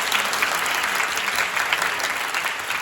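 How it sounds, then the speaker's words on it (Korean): A Korean university academic festival audience gives a big, sustained round of applause for four career advisors, dense clapping throughout with little else audible. "고생해주신 네 분께 큰 박수 부탁드립니다"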